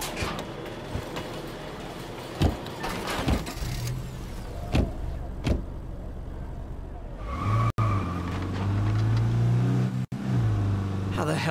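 A car in the video game State of Decay 2 revs and drives off with tire skids and a loud, steady engine roar. It follows a few scattered knocks and thumps, and voices talk over it.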